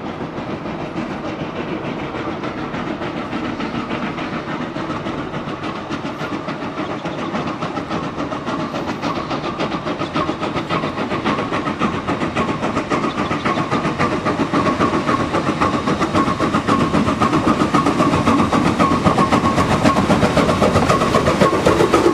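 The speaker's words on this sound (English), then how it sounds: "here's what the locomotive's chuffing sounds sound like" A steam locomotive chuffs steadily with a dense, continuous rumble, rhythmic exhaust beats and faint clattering, growing slightly louder toward the end; no one speaks.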